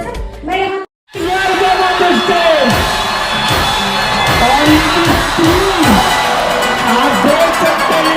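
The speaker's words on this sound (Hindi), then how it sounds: "आप देख सकते हैं इनका स्वागत करने के लिए जोरदार तालियों से" A large crowd cheers, whoops and shouts loudly and continuously to welcome someone speaker at a public event, after a brief drop to silence near the start, with shouting voices rising over the roar.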